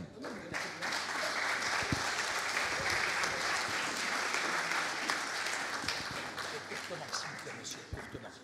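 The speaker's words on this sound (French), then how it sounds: "On peut applaudir monsieur le maire." Audience applause for a town mayor at a political conference, a steady dense wash of clapping lasting several seconds with some voices mixed in.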